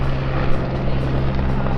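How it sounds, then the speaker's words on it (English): A private helicopter flies nearby outdoors, giving a steady, loud rotor drone with a strong low hum that holds evenly throughout, with no talking. "Can actually see there is a helicopter just over there. It looks more like a sort of private helicopter."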